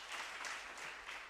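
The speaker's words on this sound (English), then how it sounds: "You didn't give her a round of applause." A school debate competition audience gives a round of applause, a dense, steady wash of many hands clapping together, fairly soft and continuous for a moment with no voices on top.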